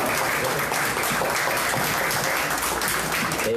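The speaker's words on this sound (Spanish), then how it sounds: "Demos pues un aplauso a nuestro autor" A seated audience at an international book fair presentation gives the author sustained applause, an even roar of many hands clapping that fills the room for several seconds.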